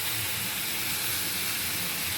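Steamed cauliflower and potatoes with salt and turmeric fry in mustard oil in a wok, making a dense, even hissing sizzle that stays close and constant throughout.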